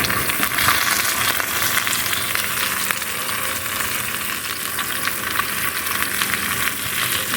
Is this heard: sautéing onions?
yes